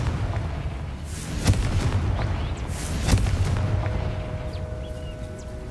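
Two sharp magical blasts from a fire spell in the fantasy game Hogwarts Legacy, each a crisp crack with a booming tail, spaced about a second and a half apart over a low rumbling ambient background.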